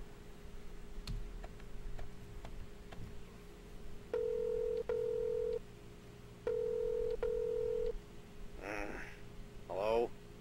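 Telephone ringing in the video game REWIND or DIE, two long electronic ring bursts, each broken by a short gap, with sparse ticks before and brief voice-like sounds after.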